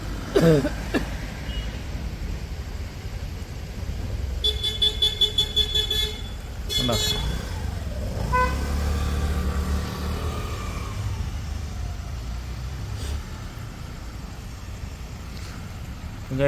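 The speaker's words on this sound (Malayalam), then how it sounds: "ബാക്കി വരുന്ന വണ്ടികൾ നാല് സൈഡിൽ നിന്നും പോകുന്നത് നിങ്ങൾ കണ്ടോണം" Night traffic at a four-way road junction in Thiruvalla, with vehicles passing steadily, a lorry among them, and bursts of repeated horn toots, while someone talks over the street noise.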